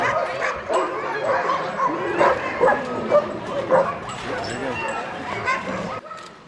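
Several sled dogs in Denali National Park, Alaska, bark, yip and whine excitedly all at once in a dense, overlapping chorus, close and continuous until it cuts off near the end.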